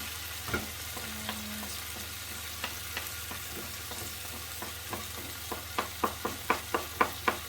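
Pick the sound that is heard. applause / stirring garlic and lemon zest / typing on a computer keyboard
stirring garlic and lemon zest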